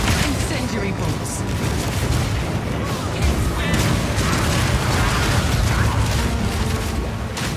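Crossbow volleys in Path of Exile 2 fire armor-piercing, permafrost and incendiary bolts amid dense, continuous combat booms, bursts and mechanical clatter, loud throughout with no pause.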